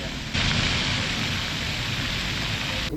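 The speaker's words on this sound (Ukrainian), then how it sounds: "Трошки йде дощ." Steady hiss of light rain falling on surfaces in Lübeck, Germany, continuous and fairly close, with a low rumble underneath and no voices.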